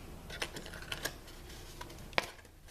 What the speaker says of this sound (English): We'll cut just the tiniest little V of cardstock.